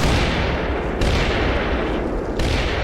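Mortar rounds shelling an enemy ridge line in the wartime strategy game Combat Mission, a dense continuous roll of overlapping booms and blasts with sharp new impacts at intervals, loud and close, no talk.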